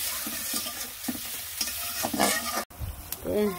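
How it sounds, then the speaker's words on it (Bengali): Spice paste for a fish curry fries with a splash of water as it is stirred in a pan, a steady sizzle broken by scraping spoon strokes, with a brief cut near the end and the hiss resuming. "কষানোর জন্য একটু জল দিয়ে দিলাম, ভালো করে কষিয়ে নিই।"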